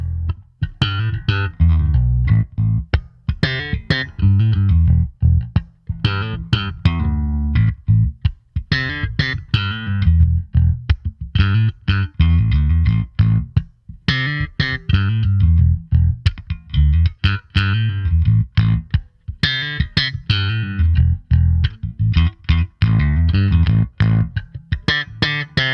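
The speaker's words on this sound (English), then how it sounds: "the SC-RDI is just a stomp away from those classic SVT and Portaflex tones" Bass guitar played through an Ampeg SCR-DI preamp pedal, a run of plucked notes and short riffs with a gritty, driven edge, loud and close throughout with brief pauses between phrases and no talk.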